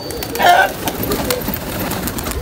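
A pigeon gives a soft, close coo against a busy background of rustling and faint shuffling noise.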